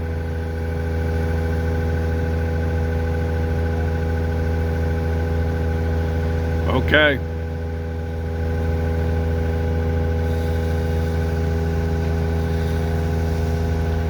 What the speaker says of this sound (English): That's the vacuum truck you hear in the background.